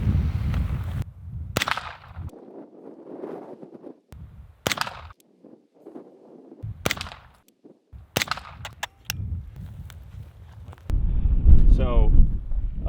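Four suppressed shots from a B&T SPC9 PDW SD crack out at an outdoor range in wind, each a short, sharp report spaced a second or more apart, with a voice talking between them and wind buffeting the microphone.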